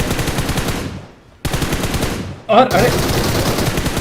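BGMI gunfire comes in rapid automatic bursts of loud close shots, broken by a short gap, with a man briefly exclaiming over the shooting.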